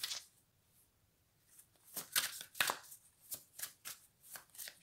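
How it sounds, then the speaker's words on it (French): Tarot cards are shuffled and a last card drawn from the deck, quiet at first, then a run of crisp riffling and sliding card flicks in quick bursts, close and soft. "Alors, on dit qu'on prend une dernière carte."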